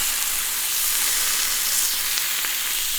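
Loud, dense sizzling of wagyu beef on a hot grill, a continuous hiss with faint pops, close up and without speech.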